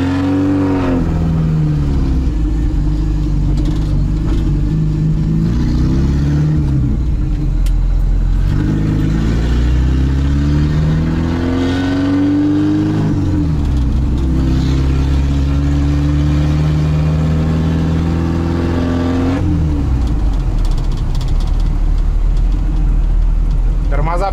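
A 1957 Moskvich 402 car drives on a first run into town, its engine revving up and down repeatedly through gear changes, loud and close from inside, with people talking over it.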